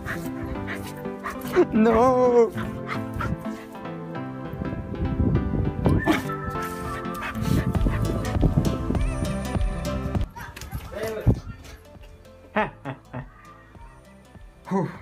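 A lively dog barks and yips while romping around, its short barks and whimpers coming close and loud in bursts among talk and laughter from the people nearby.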